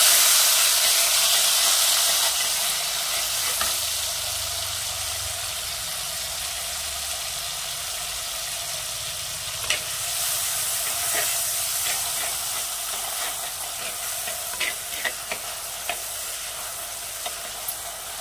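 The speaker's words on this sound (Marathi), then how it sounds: "आता हा कांदा आहे ना आपल्याला चांगला असा हाय फ्लेमवर परतून घ्यायचा आहे" Grated onion sautéing over high flame in oil where cumin seeds have bloomed, with a steady sizzling hiss throughout and occasional soft scrapes and clicks of stirring, for baingan masala.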